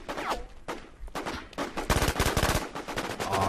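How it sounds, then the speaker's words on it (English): Bursts of rapid gunfire ring out in the online shooter War Inc. Battlezone, with single sharp shots followed by a dense, loud automatic volley near the end. "didn't have enough time to figure out who was shooting me"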